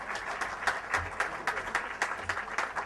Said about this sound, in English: I would request all of you to give good round of applause again